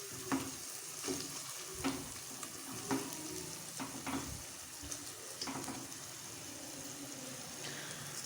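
Boiled potatoes sizzle steadily in a pan while a utensil scrapes and stirs in repeated strokes, a soft rhythmic clatter over the hiss.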